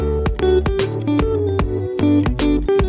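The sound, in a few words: recorded guitar part in a song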